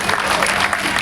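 Audience applause at a comedy stage show, a dense steady burst of clapping filling the whole short moment.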